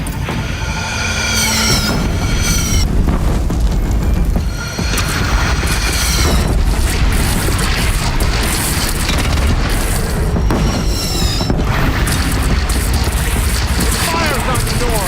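Booming cannon fire and explosions rumble through a video game battle, dense and continuous across the whole stretch, with shouted voices and brief tonal calls layered over the din.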